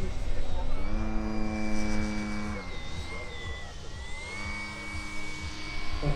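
A small propeller model airplane drones overhead at a model air show, its buzzing pitch rising and falling as it passes, while someone talks over it.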